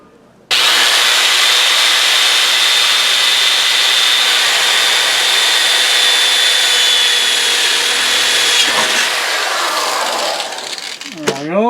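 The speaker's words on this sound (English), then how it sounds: "The drill is walking on me." A power drill bores into metal for a fire stove, starting abruptly and running as a loud, continuous grinding whine with a thin high squeal for about ten seconds before it winds down.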